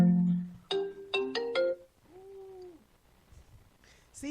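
Phone ringtone going off: a bright, melodic electronic jingle of several quick, separate notes, followed by a softer sliding tone, with faint murmuring afterward.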